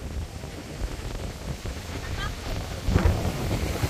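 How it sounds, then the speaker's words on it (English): Wind roars into the microphone on the coast at Guajataca Tunnel in Isabela, Puerto Rico, a steady blustery rumble that swells toward the end, loud and close. "The wind's taking you."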